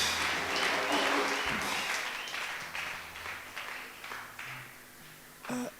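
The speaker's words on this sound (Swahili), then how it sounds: "Piga makofi hapo kabla hajaongea" A church congregation at a worship service applauds, a loud crowd of clapping that swells at the start and slowly thins out, with voices mixed in underneath.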